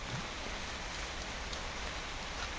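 Steady rain falls, a soft continuous patter on surfaces with no voices, even and unbroken throughout.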